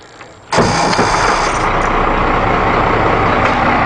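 A Ford F800 diesel auger boom truck engine cranks and catches after a quiet moment, then settles into a loud, steady, rumbling idle close by.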